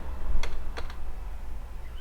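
Someone types on a computer keyboard while writing code, with a few distinct key clicks standing out over a low background hum.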